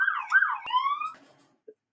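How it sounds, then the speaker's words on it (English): A siren outside wails in a brief rising and falling sweep, fairly loud and alone, then cuts off quickly, followed by a faint short click. "Pardon the siren"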